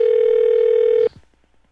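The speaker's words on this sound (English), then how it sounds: "Someone's phone is ringing." A phone rings with a steady, loud electronic tone that cuts off abruptly partway through, followed by near silence with a faint trace of a voice.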